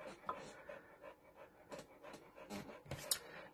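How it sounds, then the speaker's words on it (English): A dog panting indoors in a room where a card-making class is underway, quick faint breathy pants in a steady rhythm, close by but quiet, alongside soft handling noises. "No one wants to hear panting."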